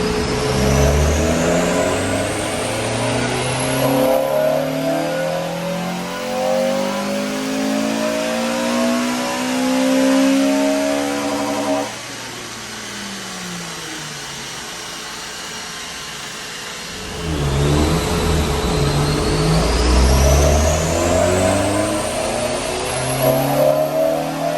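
Honda Civic FN2 Type R engine on a dyno, repeatedly revving up through rising pulls with a brief quieter lull midway before another loud acceleration run, close and mechanical.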